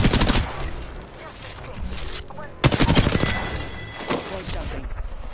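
Rapid bursts of automatic gunfire from Apex Legends combat, dense and loud with a sharp heavy shot midway, overlaid with game effects and speech-like callouts.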